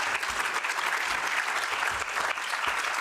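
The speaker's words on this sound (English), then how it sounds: "Can I ask you for a warm applause for my excellent panelists?" Audience at a workshop on forced labour in global supply chains gives panelists warm applause, dense, steady clapping from a room full of people, moderately close and continuous.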